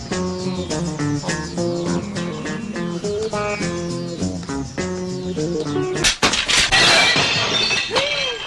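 Glass shatters in a hotel scene of a Turkish comedy film: a sudden loud crash cuts through the music and is followed by a bright, scattering tail of breaking shards.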